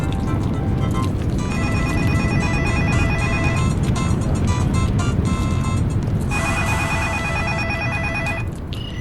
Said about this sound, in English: causes every mobile phone in every concert throughout the world to start ringing forever